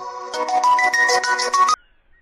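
A phone ringtone plays a short bright melodic tune for about a second and a half, loud and close, then stops abruptly into near silence.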